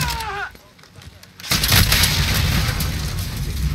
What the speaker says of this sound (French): T'es en train de tirer.